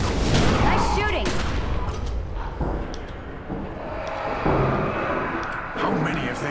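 Gunfire from a firefight in the video game The Secret World, dense bursts and booming shots throughout, mixed with shouting voices and game sound effects.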